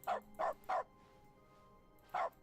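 Dog barks in dog mode of The Stanley Parable video game: three quick, loud barks in a row, a pause, then a single bark, over faint low background hum.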